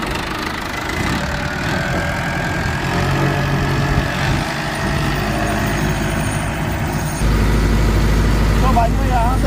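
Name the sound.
tractor engine running with GPS automatic steering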